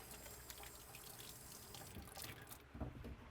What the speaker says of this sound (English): Wash my hands again because I touched that bacon.